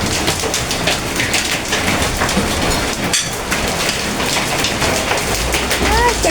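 Hail pelts down outdoors at a home in the State of Mexico, a dense, continuous hiss of pellets striking surfaces close by, loud and unbroken with scattered sharper impacts.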